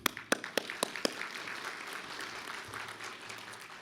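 Audience applause at an economic club luncheon, with a few sharp, close claps at the start that fade into a softer spread of clapping across the room, fairly faint overall.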